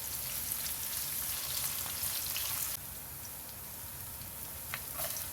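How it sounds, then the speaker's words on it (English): Chopped onions sizzle in hot oil in a pot, a steady close frying hiss that drops slightly in level partway through, with a few faint clicks near the end and no voices. "Start by heating oil in a pot. Saute chopped onions until soft and fragrant."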